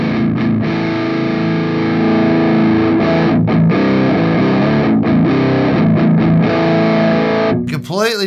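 Heavily distorted electric guitar through a NUX Metal Core Deluxe MKII amp modeler with the mids scooped, playing loud sustained chords and riffs with brief gaps, closing with a sharp squealing pick slide.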